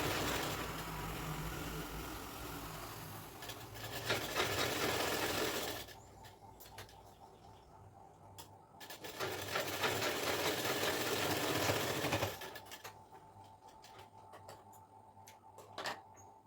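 An electric sewing machine stitches a shoulder seam on a slit top in two close, steady runs of rapid whirring, about six seconds and then three seconds long. Quiet pauses and a few small clicks fall between the runs.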